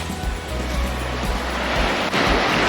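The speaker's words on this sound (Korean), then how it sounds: "파도 소리 좋습니다" Ocean waves on a quiet off-season beach in Northern Cyprus, a continuous rolling surf wash with low rumble, mixed with some wind noise on the microphone and no voices.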